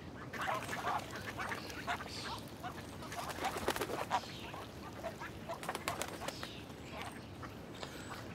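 Ducks or similar birds feeding close by, with repeated quacking and chattering calls and busy pecking and rustling over a steady low background, no talk.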